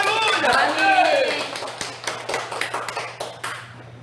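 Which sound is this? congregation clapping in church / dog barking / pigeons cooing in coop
congregation clapping in church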